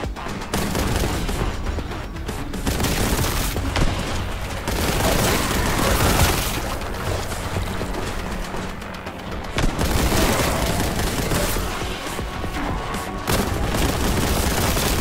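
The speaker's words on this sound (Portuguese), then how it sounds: "Quanto tiro, cara!" Dense, continuous gunfire and heavy booms in the first-person shooter Warhammer 40k Boltgun, a relentless loud fusillade of bolter fire and blasts throughout, with brief dips before the shooting surges again.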